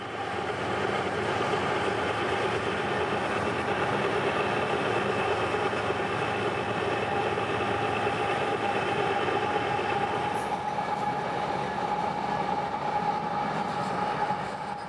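A CSX freight train rolling past at about 40 miles per hour on Florida's Bone Valley line in summer, a continuous heavy rumble and rail roar with faint wheel squeal, steady and close throughout.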